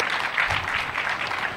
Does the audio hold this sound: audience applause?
yes